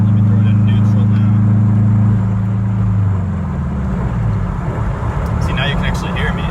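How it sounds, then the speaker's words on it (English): A loud, steady exhaust drone hums inside a catless Subaru Forester XT at about 65 mph, just over 3,000 RPM, then the tone drops and fades into road noise as it shifts to neutral. "Hopefully you can tell from that it actually drones when I'm driving the highway."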